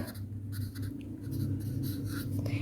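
Marker or chalk scratches and taps steadily on a board as a maths statement is written, close and continuous, with short pen strokes.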